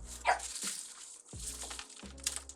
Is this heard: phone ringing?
no